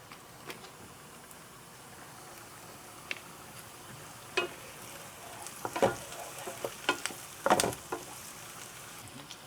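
Butter sizzling softly in a pan with potatoes, a steady quiet fry broken by a few sharper clicks and scrapes from stirring.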